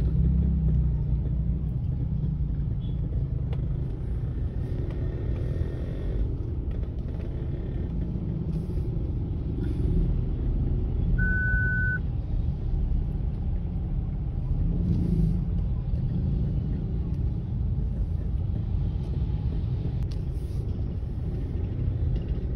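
Road traffic near a cemetery in Morong, Rizal on All Souls' Day, a continuous low engine rumble of idling and slowly moving vehicles, including jeepneys, droning steadily throughout with no talk.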